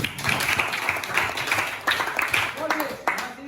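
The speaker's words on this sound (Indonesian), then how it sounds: "tepuk tangan buat" Students applaud together in a classroom, a dense burst of clapping that rises and falls over a few seconds with a teacher's voice faintly mixed in.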